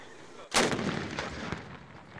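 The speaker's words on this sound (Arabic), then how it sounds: "يأتي إطلاق 8 طلقات جريا على التقاليد البحرينية الأصيلة" A single ceremonial cannon shot, one of eight fired in traditional Bahraini style to mark Eid al-Fitr: a sudden loud boom that rolls on as a long echo over steady outdoor background noise.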